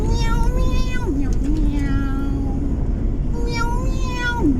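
A voice imitates a cat, drawing out several loud, close meows in a sing-song pitch that rises and falls, with steady road or vehicle rumble underneath.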